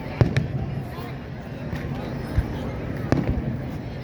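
Fourth of July fireworks in Annapolis burst in sharp booming cracks, a few spread irregularly over a continuous crowd murmur and outdoor hubbub.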